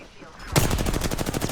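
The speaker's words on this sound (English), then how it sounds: "Taking fire." Rapid automatic gunfire in Apex Legends erupts after a brief quiet moment, a fast steady stream of close, loud shots with a little voice beneath.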